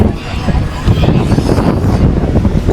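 Wind gusting across Pattinapakkam beach, a steady broadband rush buffeting the microphone close up for nearly three seconds, with faint indistinct voices underneath.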